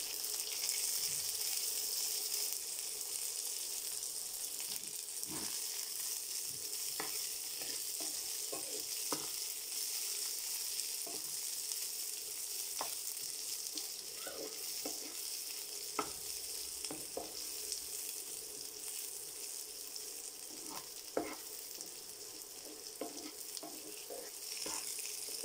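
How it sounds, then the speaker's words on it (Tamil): Onion and green chilies sautéing in oil in a pan for pachamilagai pulimandi, a continuous close sizzle with scattered clinks and scrapes of stirring. "க்ரீன் சில்லி நல்லா வதங்கணும்."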